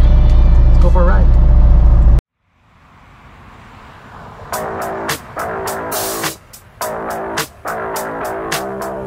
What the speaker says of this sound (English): Driving to the tire shop.